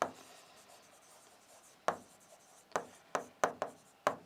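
A pen moves across paper while a class 10 board-exam maths problem is worked out, making soft scratching strokes and then a quick series of sharp taps and short scribbles, close by with no talk.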